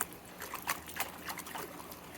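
Water trickles and splashes lightly as gold sluice parts are shaken off and rinsed, a faint patter of small splashes close by with no talking.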